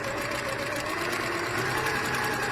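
A sewing machine runs a half-inch seam on a zipped cushion with a steady, loud, close mechanical whirring that does not break and has no talk over it.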